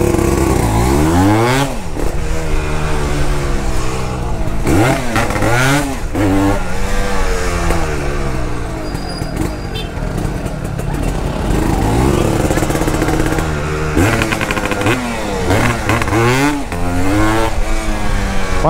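A Yamaha DT200R motorcycle engine revs and rises in pitch repeatedly while riding at night, loud and close, with rhythmic surges and a brief talking voice partway through.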